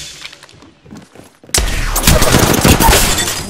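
Gunfire in the video game Apex Legends starts after a quieter opening of soft thumps, then breaks into a loud, dense burst of rapid shots that continues to the end.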